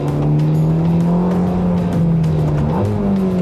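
Close, loud Ferrari Roma twin-turbo engine revving with a steady throaty drone and a quick pitch shift near the end.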